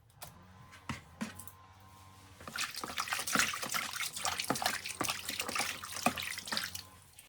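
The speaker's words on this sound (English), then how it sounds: "Then wash the lettuce, then dry off afterwards" Tap water runs over lettuce being washed for a chicken Caesar salad, a steady splashing stream broken by irregular handling splashes and drips, close and fairly quiet.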